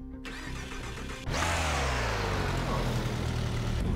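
Car engine in the racing game Project Cars GO starting up with a sharp burst, then revving to a sustained loud roar with pitch sweeping down and settling into a steady drone.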